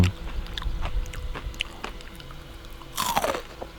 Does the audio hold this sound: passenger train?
no